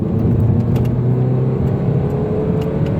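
A Citroen C-Elysee accelerates at full throttle in second gear from 40 km/h on a village road, its engine a loud, continuous, strained drone that holds steady and close with no pause.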